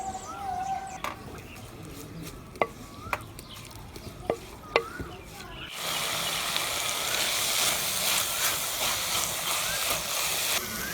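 Mixed vegetables fry in hot cooking oil for a village-style omelette, first with scattered stirring clicks and light sizzling, then a loud, steady, close sizzle filling the second half.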